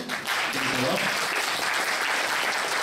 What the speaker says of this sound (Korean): 우리 들어갈 때 큰 박수 해주세요